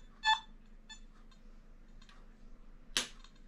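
A Nokta Makro Simplex+ metal detector sounding on a silver quarter: a short bright beep, a fainter second tone, then a sharp louder signal near the end against a quiet hum.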